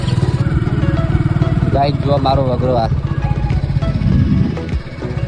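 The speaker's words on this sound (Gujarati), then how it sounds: "બાઇક ચાલુ કરી." A motorbike engine runs with a steady, throbbing putter close by in a farming village, setting off for the fields along an unpaved road, while someone talks over it.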